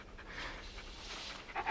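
A dog pants in quick, soft breathy bursts close by, fairly faint, with a short brighter sound near the end.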